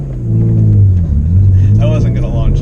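A BMW E39 528i revs its exhaust in a deep, loud rumble that swells and settles over a few seconds, heard close up with someone speaking over it.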